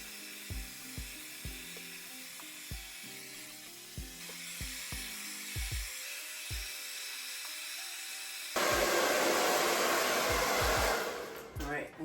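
A hair dryer blows steadily on damp hair, its loud continuous whoosh joined near the end by a higher, harsher setting, with clicks and handling knocks from an earlier task heard before it starts.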